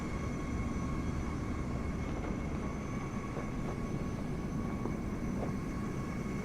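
EasyJet airliner in Microsoft Flight Simulator 2024, a steady low roar of engine noise with a faint high whine, constant and unbroken, without talk.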